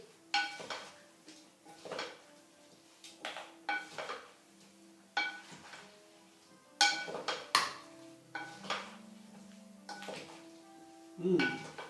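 Salad of tomatoes, cucumbers, avocados and endives being tossed with a sesame dressing in a bowl, giving a series of clinks and scrapes of utensils against dishware, each knock distinct and fairly close.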